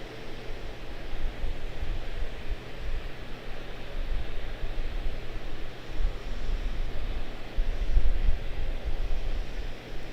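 An Airbus A321 airliner taxiing at Charlotte-Douglas airport gives a steady, broadband jet-engine roar with a low rumble, continuous and fairly loud throughout, swelling slightly near the end.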